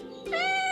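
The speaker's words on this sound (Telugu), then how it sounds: "పిల్లి" A cat lets out a single clear meow, rising into a drawn-out tonal cry, close and alone.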